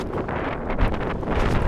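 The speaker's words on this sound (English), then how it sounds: "Oh, it's very windy." Strong wind gusts by the sea near Reykjavik, Iceland, buffet the microphone in rough, rumbling bursts, loud and uneven, with no voices.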